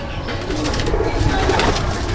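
Andhra or Madrasi racing pigeons in a loft make a dense, loud blend of cooing, near and continuous, with a rushing background.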